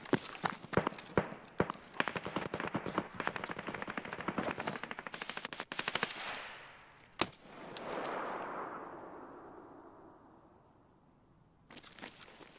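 Rapid gunfire in Escape From Tarkov, quick sharp cracks in fast bursts that grow sparser, one isolated report and a trailing echo, then a final short burst, fairly distant and quiet.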